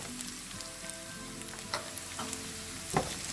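Garlic, sliced shallot and curry leaves sizzle steadily in a hot pan, a dense continuous frying hiss with faint stirring clicks and taps, close and fairly quiet, no talking.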